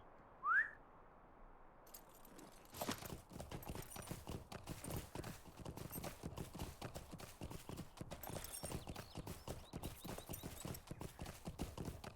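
Horse hooves clip-clop in a steady, brisk rhythm in the video game LOTRO, close and continuous for about ten seconds after a short whistle at the start.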